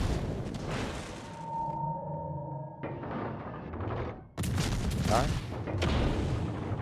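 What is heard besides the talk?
ship guns firing in a naval battle video game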